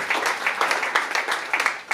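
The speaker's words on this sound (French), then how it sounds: "Clap for Jesus Christ." Church congregation claps during a sermon, a brief burst of applause with uneven individual claps at moderate loudness.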